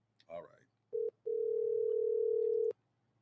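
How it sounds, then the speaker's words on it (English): A telephone dial tone sounds close and clear during a callback, a short steady tone burst and then a longer continuous one, after a brief bit of speech. "I'm calling somebody back because I missed the phone call again"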